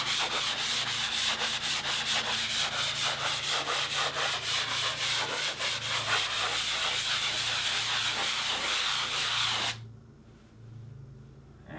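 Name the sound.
light sanding of a painted surface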